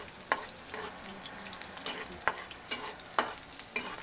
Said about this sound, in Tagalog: Haluin mo siya para hindi siya masunog.